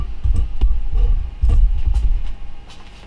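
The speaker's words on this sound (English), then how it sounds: "if you press it one time, the washer should start tumbling clockwise." An LG front-load washer in self-test diagnostic mode, its drum tumbling with a low, heavy rumbling throb and repeated thumps close by, with no voices.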